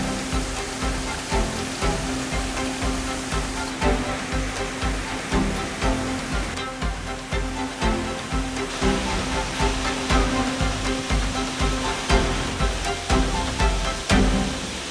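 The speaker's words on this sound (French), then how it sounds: "Nous arrivons aux cascades de Nashi." A continuous roar of Nachi Falls in Japan, a 133-metre waterfall, dense and steady throughout, with a faint rhythmic pulsing in the rush.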